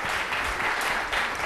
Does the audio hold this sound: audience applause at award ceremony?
yes